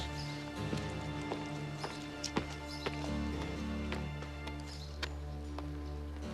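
Horses' hooves clip-clop in an irregular, moderately close series of taps over a low steady background rumble in a historical drama, with no talk.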